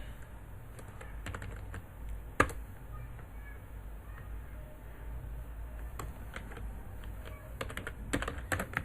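Quiet keystrokes on a computer keyboard as a message is typed, irregular soft clicks in short bursts with a few louder taps, set against a low room hum.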